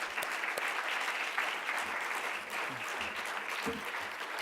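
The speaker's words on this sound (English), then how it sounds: "let's give Amy a round of applause for tonight" Steady audience applause fills a community award event in Canton, a dense, even wash of many hands clapping at fairly loud level throughout, with no speech over it.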